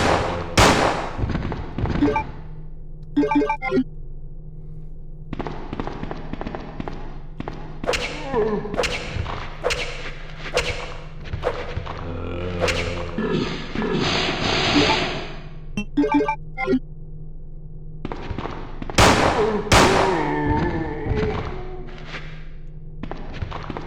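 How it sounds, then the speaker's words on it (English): Gunshots fired at zombies in the survival horror game Resident Evil 2, a series of sharp, loud reports spaced irregularly through the scene over a steady low game ambience, with occasional thuds and other game noises between shots. "You're gonna have to shoot this guy now."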